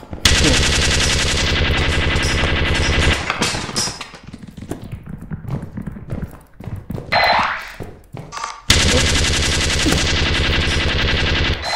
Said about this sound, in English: The turrets make TF2 sounds.